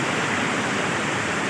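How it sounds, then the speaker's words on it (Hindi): Kundal Shahi waterfall in the Neelam Valley mountains, its water pouring in a loud, steady, full hiss that fills the whole moment without a break. "ये जो कुंडल शाही वाटरफॉल का पानी आ रहा है"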